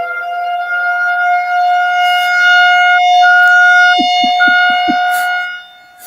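A loud outdoor warning siren holds a steady, droning tone for several seconds, then fades out, with a short burst of knocks or thumps partway through.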